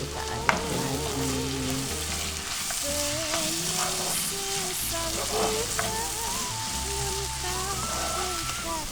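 Seasoned food sizzles steadily in a frying pan while a utensil scrapes and stirs through it. There is a faint musical bed underneath and one sharp clink near the start.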